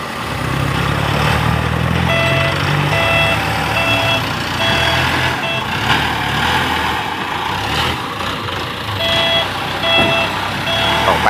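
A loaded dump truck hauling rocks, its engine droning with steady intermittent reversing beeps repeating throughout, heard at moderate distance amid outdoor noise.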